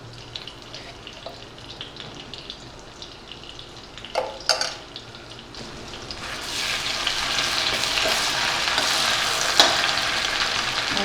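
Red chili, ginger and garlic dropped into a hot pan: a quiet stretch with a couple of clattering knocks, then a loud hissing sizzle that swells up and carries on steadily to the end.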